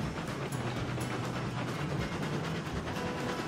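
Steam locomotive in the Railroads Online game, a steady rumbling rail drone with faint rhythmic clatter running continuously at moderate loudness, no voices.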